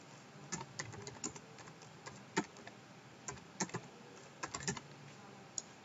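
Someone types on a computer keyboard, giving a quiet, irregular run of close key clicks with occasional louder taps.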